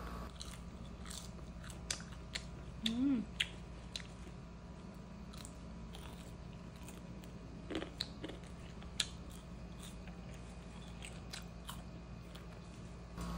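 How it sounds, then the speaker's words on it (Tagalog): Crispy squash fries are bitten and chewed up close, with quiet scattered crunches and a few sharper bites over a faint background hum. "Titikman ko na nga rin pala para malaman ko kung malutong ba talaga."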